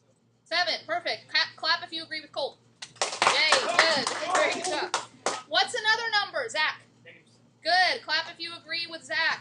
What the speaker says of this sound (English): Clap if you agree with Colt.